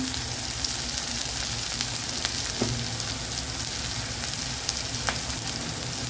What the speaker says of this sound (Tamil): இது வதங்கட்டும் வெங்காயம் நாலு பச்சை மிளகாய்